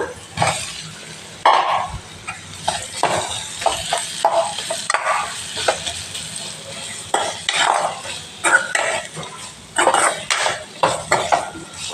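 Potatoes go into a pan for aloo kurma amid a busy run of metal clatter, spoon scrapes and stirring, with a light sizzle underneath and sharp clinks of utensils against the pan throughout.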